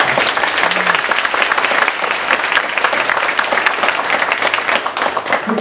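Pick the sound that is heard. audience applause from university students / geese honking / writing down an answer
audience applause from university students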